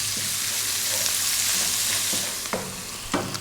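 Salted onion sizzles in a hot pan for Indian yellow dal and is kept moving with a utensil. The frying hiss is loud and constant, and a few scraping clanks land near the end.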